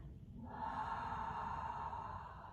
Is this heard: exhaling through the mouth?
yes